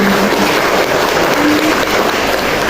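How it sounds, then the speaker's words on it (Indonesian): An audience at a morning BKKBN East Java event on reducing stunting claps loudly, a dense, steady applause that carries on throughout with no voices on top. "Beri tepuk tangan dulu untuk kita pada pagi hari ini"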